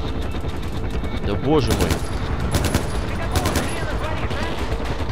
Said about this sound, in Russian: Я стреляю во врагов.